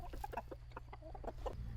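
Appenzeller crested hens cluck in a steady run of short, close calls, with a low constant hum running underneath.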